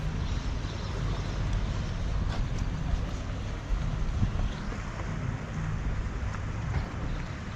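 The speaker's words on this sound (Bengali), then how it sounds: "কাঠের এই নৌকা চড়ে পরের কয়েক ঘন্টা চষে বেড়াবো" A wooden boat cruises on the sea off Dubrovnik: a continuous low engine rumble mixed with wind buffeting and water wash, loud and steady throughout.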